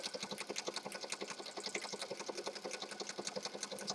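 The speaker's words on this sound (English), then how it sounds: "So I'm just going to sew that down. Zigzag stitch." A sewing machine zigzag-stitching black thread onto lace, running steadily with a fast, even needle rhythm throughout, close and clear with no talking.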